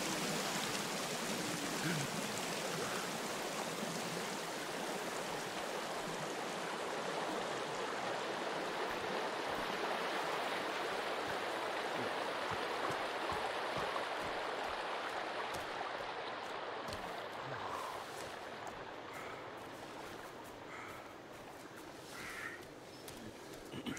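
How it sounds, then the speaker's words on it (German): Rushing water from a waterfall in the Sons of the Forest video game, a dense, steady roar that stays loud throughout and eases slightly near the end, with faint bird calls in the background. "Wenn hier schon Wasserfälle sind,"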